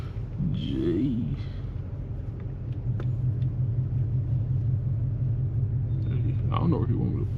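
A car engine rumbles steadily nearby as it pulls up, a low continuous drone with a brief swell partway through, while people talk over it.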